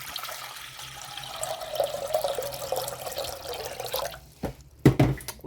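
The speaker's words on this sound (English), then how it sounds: "Let me get some water in this pot here." Tap water runs steadily into a cooking pot for several seconds, a continuous splashing flow that rises slightly in pitch as the pot fills, then stops, followed by a few brief clunks of the pot being handled.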